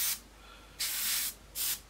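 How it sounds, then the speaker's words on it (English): Three short bursts of spray paint hiss from an airbrush or can coating small rear undercarriage parts for a 1/72 Airfix McDonnell Douglas Phantom FG1 model, each burst a steady, close hiss with quiet gaps between. "these are for the rear undercarriage. Again, spraying them up."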